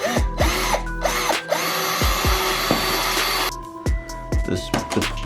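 A power drill enlarging a hole in a Mustang GT's front bumper for a splitter, several close whirring bursts that spin up and wind down between pauses, loud in the foreground.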